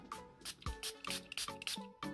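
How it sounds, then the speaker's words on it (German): A handheld spray bottle mists water onto plastic foil from about 10–15 cm away, giving a rapid series of short, close, wet bursts. "Und dann sprühen wir das Wasser ungefähr 10-15 cm Entfernung"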